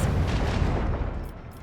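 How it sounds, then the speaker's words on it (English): Macro cannons firing in the Warhammer 40K: Rogue Trader video game, a loud, heavy booming roar with a deep rumbling body that fades slightly at the end. "Unleash the storm of macro cannons!"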